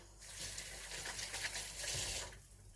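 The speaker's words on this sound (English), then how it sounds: "after that you just wash your hands" A tap running steadily into a sink while hands are washed after handling potatoes, a soft close gush that starts and stops cleanly, with no voices.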